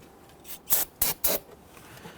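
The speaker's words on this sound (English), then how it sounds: "spraying down our reservoir here, cleaning up any debris." Short bursts of cleaner spray hit the brake fluid reservoir of a 2011-2017 Nissan Quest, three quick hissing pulses close to the microphone with faint rustling around them.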